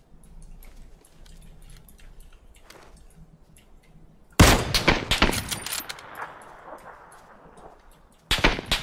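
A Kar98k bolt-action sniper rifle fires in a video game: a sudden loud, sharp crack with a rolling echo tail cuts through quiet footsteps and ambience, followed by a second loud blast near the end.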